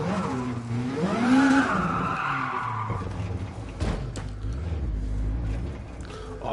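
A race car in the Gran Turismo Sport video game spins out after hitting a curb, with a rising engine whine and tire squeal followed by lower rumbling skids and a faint voice.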